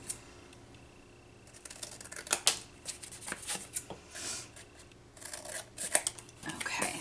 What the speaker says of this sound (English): now I'm just going to cut with my regular scissors where I drew these lines.